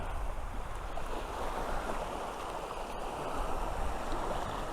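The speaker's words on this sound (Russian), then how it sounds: "Шум моря." Continuous roar of cold sea waves washing onto a jasper pebble beach below large cliffs at Cape Fiolent, broad and steady with gentle swells, some wind mixed in, no voices.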